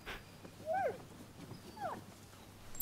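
A dog in the samurai action game Rise of the Ronin gives two short whining whimpers about a second apart, fairly close and clear over quiet ambience.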